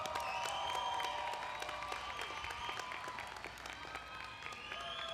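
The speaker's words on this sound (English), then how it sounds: "give them a round of applause." A commencement ceremony audience gives sustained applause, many hands clapping in a dense crowd wash with faint murmuring voices underneath.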